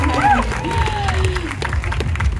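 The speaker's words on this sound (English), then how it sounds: "So yes, you heard the crowd." Crowd at a relating workshop applauding and cheering, with clapping and whoops mixed with excited voices and a few rising shouts, moderately loud and fairly close throughout.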